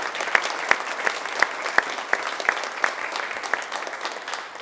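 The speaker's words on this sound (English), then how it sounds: "Give them a big round of applause." An audience at a Weslaco High School college signing ceremony applauds a student athlete and her family, with sustained clapping and a few sharp, distinct nearby claps standing out from the crowd.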